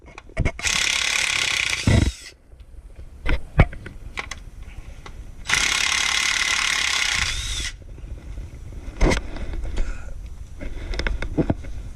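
Ratchet spinning on transmission pan bolts of a 2004 Infiniti FX35, two long loud bursts of rapid clicking separated by scattered metallic taps and clanks, close up with no talking.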